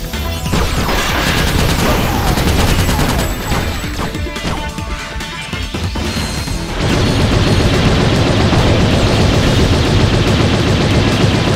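A mounted turret in Ratchet Deadlocked fires in a loud, unbroken stream of rapid shots, with crashes and explosions piling up into a dense, saturated din that grows even heavier partway through.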